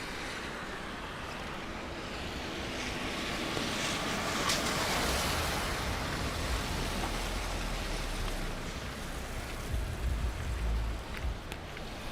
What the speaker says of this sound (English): So there you can see that it is raining quite heavily